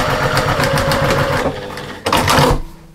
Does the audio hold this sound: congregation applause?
no